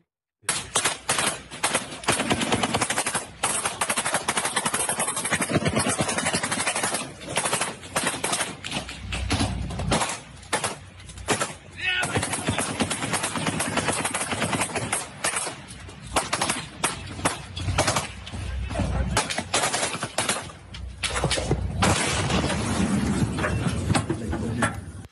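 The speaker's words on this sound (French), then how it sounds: "on entend des détonations de canons" Rapid bursts of gunfire and heavy booming cannon detonations on a ship under Ukrainian naval drone attack, loud and close, coming in clusters with brief gaps over a long stretch.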